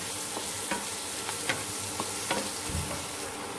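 Chilli powder and coriander sautéing in a pan with a steady hiss of frying, broken by several sharp scrapes of a spoon stirring against the metal, close and fairly loud with no voices.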